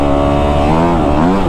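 Kawasaki KX250F dirt bike ridden on sand, its engine loud and close with a steady buzzing tone that dips and rises briefly, no voices.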